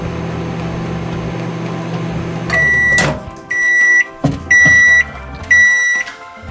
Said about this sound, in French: Là, on va aller mettre le contenant de tire au four micro-ondes.